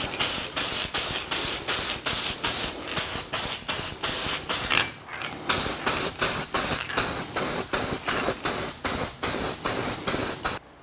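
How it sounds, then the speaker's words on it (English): Copper gasket spray hisses from an aerosol can onto a head gasket for a Vortec 4200 engine build, in about two dozen short, loud, evenly spaced bursts with a brief pause midway. "So let's get this thing taken out and spray on some copper spray."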